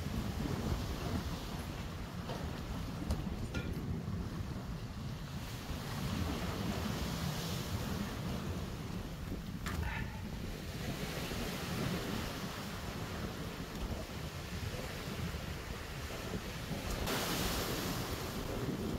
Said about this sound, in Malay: angin sini terlalu kuat, jadi kamera tadi terbalik